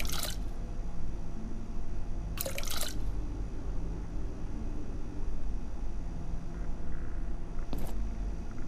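Liquid is poured into a plant container in the Abiotic Factor game: soft, steady trickling and dripping runs throughout, with a few brief sharp splashes standing out near the start and middle.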